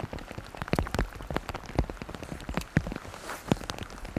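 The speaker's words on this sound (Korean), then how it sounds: "갑작스레 굵어진 빗방울" Heavy raindrops on the Nakdong River during summer bass fishing, loud irregular splats and patters striking nearby, dense and uneven over a wet hiss.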